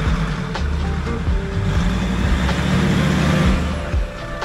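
A camper van engine labours on a cobbled street in central Hamburg, a steady loud rumble with rough low-end texture and a shift in tone as a gear changes, continuous throughout.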